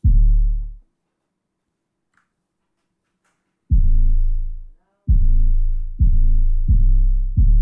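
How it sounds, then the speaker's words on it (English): Deep, booming 808 bass notes with a long decaying tail, a simple hip-hop beat pattern: one hit, a pause, then four more in a steady rhythm, loud and alone. "Nothing crazy, very simple 808."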